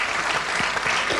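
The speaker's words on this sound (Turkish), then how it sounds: "Alkışlarla uğurluyoruz." A studio audience applauds on a Turkish television show, dense continuous clapping filling the space at steady loudness, with a few sharper individual claps standing out.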